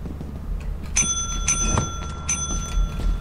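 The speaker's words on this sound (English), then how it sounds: "you need to ring the bell a bunch" A bright bell in the video game Lethal Company rings three times in quick succession, each ding clear and metallic over a low background hum.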